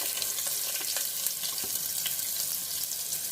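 Finely chopped onion sizzling in hot oil for a bottle gourd curry, a dense, constant hiss with faint crackles, close and steady with no talking.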